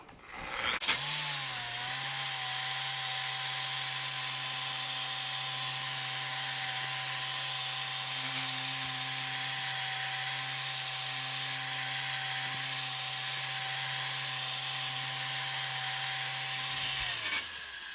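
A small polisher with a 3-inch 50-50 pad spreads Angel Wax Perfect Polish across a car's paintwork, a steady motor whine and whir running continuously at close range, then cutting off near the end.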